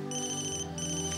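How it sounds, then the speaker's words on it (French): A mobile phone ringtone chimes indoors at a family dinner table, a bright repeating electronic melody with a short break between phrases, fairly soft and with no talking. "C'est encore ton téléphone, ça?"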